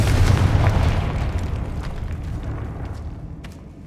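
A Confringo fire spell explodes in Hogwarts Legacy, a loud booming blast that decays into a long rumbling tail, heard alone without voices.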